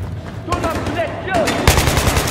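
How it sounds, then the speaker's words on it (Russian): Rapid machine gun fire in the Battlefield 3 video game, a continuous loud rattling burst of shots with rising intensity toward the end, while a voice shouts over the gunfire. "Пулемет 12 часов!"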